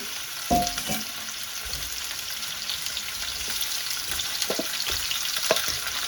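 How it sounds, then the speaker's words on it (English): Pork pieces frying in a couple of tablespoons of olive oil in a pan for pozole, a steady close sizzle with a louder burst as the meat hits the oil and occasional utensil clicks. "I've added a couple of tablespoons of olive oil to the pan here. We're going to just put the darn pork in"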